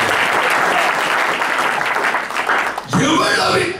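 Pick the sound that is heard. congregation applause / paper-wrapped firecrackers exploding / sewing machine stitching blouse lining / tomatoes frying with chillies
congregation applause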